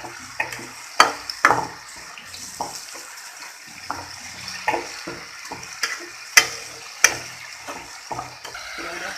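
Prawns sizzle in a spiced onion masala in a pan while a spatula stirs and turns them, giving a steady crackling fry with sharp metallic scrapes and taps at irregular intervals.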